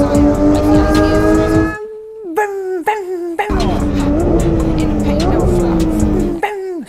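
Alfa Romeo 4C engine revving loudly up close, with a steady high-rpm drone broken by short pauses and sharp rising throttle blips like rev-matched downshifts.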